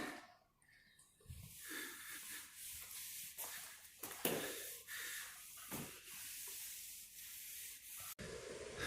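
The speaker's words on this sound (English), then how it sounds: "take the damp rag with some alcohol on it and press those panels nice on there" A damp rag wetted with alcohol is pressed and rubbed hard over white plastic panels during installation, producing soft, repeated close-up rubbing and wiping strokes at low volume with a few sharper swipes.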